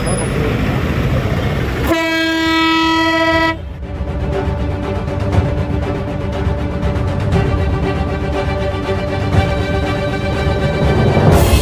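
A loud truck horn fitted on a tractor blasts in a long, sustained multi-tone honk, followed by heavy rumbling engine and road noise close by.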